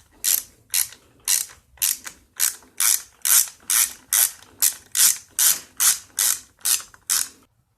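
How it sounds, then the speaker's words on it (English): Ratchet wrench snugging the two 5/16 nuts that hold the air box on the intake studs of a Stihl FS trimmer, a close, steady run of about fifteen sharp clicking strokes at an even rhythm with no talk. "You don't want to over tighten these bolts. Just get them nice and snug."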